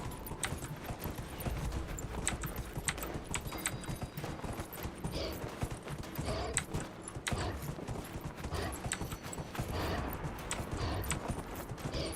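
Hooves of a warthog mount trot in a quick, steady clip-clop rhythm in the Dragon Age video game, continuous and moderately close with no talking.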